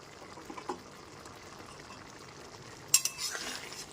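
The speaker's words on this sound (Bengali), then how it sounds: "খুন্তিটা দিয়ে খুব ভালো মতো মিশিয়ে নিচ্ছি" Chana dal being stirred in a pan with a spatula, soft scraping and faint sizzling through a quiet stretch, then a sharper metallic clink and brief louder stir near the end, close up with no voices.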